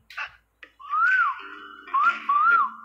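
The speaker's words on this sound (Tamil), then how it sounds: "அந்த அம்மா ஜோதிகா விசில் அடிச்சு ரொமான்ஸ் பண்றாங்களாம்" Melodic whistling from a romantic Tamil film scene starring Suriya and Jyothika, two rising-and-falling phrases carried alone with no talk, preceded by a couple of brief soft knocks.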